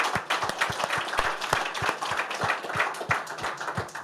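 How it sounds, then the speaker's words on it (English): Audience applause in a conference room after morning presentations, a steady dense patter of many hands clapping with sharp individual claps standing out, fairly close and without talk. "can everyone join me in please giving them a round of applause?"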